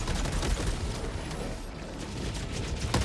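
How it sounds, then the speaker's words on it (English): A strafing run in Helldivers: dense, continuous rumbling gunfire and explosions fill the whole stretch, loud and close, with a sharper burst near the end. "Oh fuck, strafing run."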